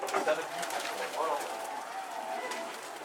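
A pigeon that had been lost for a week and was caught coos nearby in soft, low rolling calls, with people talking close by.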